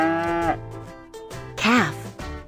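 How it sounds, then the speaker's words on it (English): A cow lets out a couple of close, drawn-out moos, the second rising and falling in pitch, with short gaps of quiet between them. "Cow."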